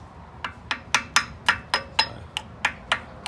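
About a dozen sharp metallic taps from a small hammer on a brake pad, struck at a steady moderate pace, close and clear with brief ringing after each.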